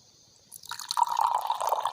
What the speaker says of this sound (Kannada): ಈ ಪುದೀನ ಜ್ಯೂಸನ್ನು ಇದಕ್ಕೆ ಹಾಕಿಳ್ತಿದ್ದೇನೆ